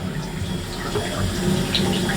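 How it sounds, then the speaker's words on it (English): A steady, loud hiss and rush of water spraying forcefully from a leak, continuous and close, with no voices. "Look at how that water's shooting"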